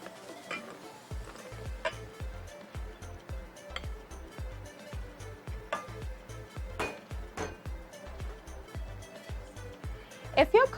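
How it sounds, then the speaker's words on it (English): A spatula folds dry ingredients into a brown sugar mixture in a mixing bowl, giving a steady rhythm of soft scrapes and light taps against the bowl that repeat about twice a second. "Now we're going to gently fold our dry ingredients into our brown sugar mixture."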